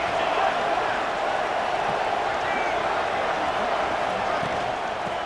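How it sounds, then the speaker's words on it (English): Stadium crowd noise from EA Sports College Football 26, a steady, dense roar of many voices filling the whole stretch at an even, loud level with no clear peaks, suggesting a tough road environment early in a football game. "Listen to the crowd energy here in the early going."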